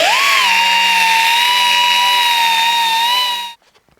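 A power tool whines steadily and loudly while cleaning gasket surfaces on the hydraulic reservoir of a Deutz 6006 tractor, running for about three and a half seconds before cutting off abruptly.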